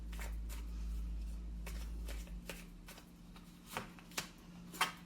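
A deck of tarot cards is shuffled close by, with a soft riffling patter followed by a few sharper, separate card snaps toward the end, quiet and with no talking.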